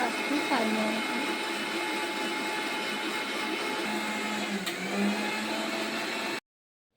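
A mixer grinder grinds chutney for a gravy, a steady loud motor whine running unbroken for about six seconds before stopping abruptly, with faint talk underneath.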